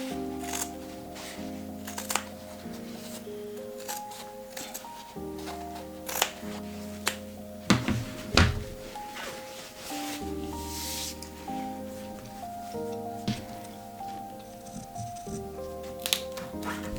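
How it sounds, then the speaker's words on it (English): Scissors trim the fabric seam allowance on a corset, making a run of close, crisp snips at irregular intervals over a soft background hum. "I'm just gonna trim the seam allowance."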